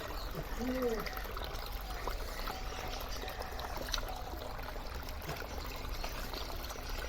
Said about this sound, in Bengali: এখন যেহেতু ফোর্সে জলটা বেরোচ্ছে